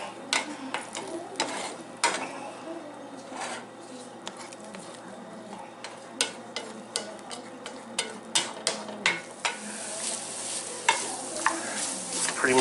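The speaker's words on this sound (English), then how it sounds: "I'm just going to mix in the chorizo and the eggs." Chorizo and eggs fry in a pan while being stirred, a steady sizzle broken by sharp, irregular clicks and scrapes of the utensil against the pan.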